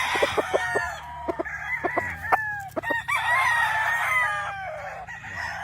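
A gamefowl rooster on a gamefarm crows repeatedly in close, loud, harmonic calls, mixed with sharp clucks and other fowl noises against faint background hum.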